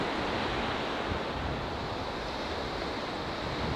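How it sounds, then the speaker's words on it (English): Ocean waves break on offshore sandbanks in a constant, broad roar of surf and wind, loud and unbroken throughout, with no speech. "You see the formations of the waves"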